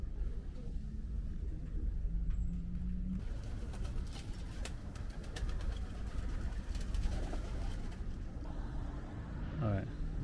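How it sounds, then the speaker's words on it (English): Pigeons cooing outdoors in a city setting, soft repeated low coos heard amid a constant street rumble of passing cars, with voices talking nearby. "Oh damn, they have pigeons."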